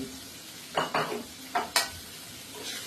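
Offal tossed and stirred in a hot pan for a secret-recipe Thai holy basil stir-fry, giving a few quick scraping, sizzling bursts close by over a low frying hiss, with no talk.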